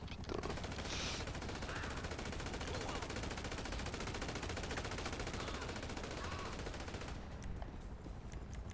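AK rifle fire in a Grand Theft Auto heist-preparation mission, a dense stream of rapid automatic bursts, moderately loud and continuous for most of the stretch before stopping near the end.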